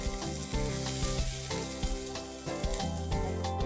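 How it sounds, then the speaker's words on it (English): Pureed spinach sizzles in a hot pan while being mixed, with a dense close frying crackle punctuated by regular scraping stirs and utensil knocks. Background music plays underneath. "Now let's add the pureed spinach. Give it a good mix."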